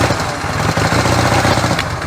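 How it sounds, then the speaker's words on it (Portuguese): A carbureted Honda CB 450 DX motorcycle engine runs at idle, a loud, close, steady rumbling putter with fast even pulses and no talking. "E como todo vídeo, vamos dar uma partidinha na motoca?"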